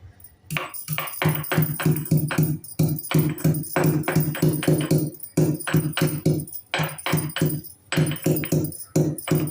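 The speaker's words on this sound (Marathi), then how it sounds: "आता चहाला उकळी येईपर्यंत आपण इथे कलबत्त्यात थोडं अद्रक फुटून घेऊया" Ginger pounded with a pestle in a mortar: rapid, steady pounding, sharp rhythmic thuds repeating close by with brief pauses between bursts.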